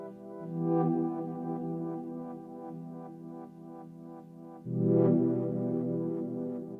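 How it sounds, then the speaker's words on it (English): Elektron Tonverk playing a dub techno chord through a bass width filter that thins the low end: a sustained, droning tonal pad with soft pulses, a brief dip, then a louder swell on the next hit. "This is what the Tonverk sounds like."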